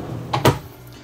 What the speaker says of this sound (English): full extending ball bearing drawer guided drawers